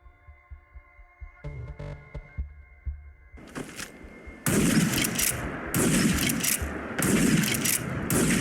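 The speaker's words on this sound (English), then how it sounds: "a classic lever-action shotgun, the Winchester 1887, aka Terminator shotgun" Winchester 1887 lever-action shotgun fired in Fallout 4, starting with quieter mechanical clicks and thuds, then several loud booming blasts in quick succession with cycling action sounds between shots, no talking.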